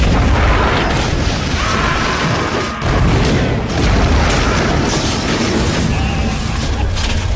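Cannons loaded with stone balls fire in a rolling barrage, heavy booms and blasts merging into a dense, loud roar that barely pauses for the whole stretch.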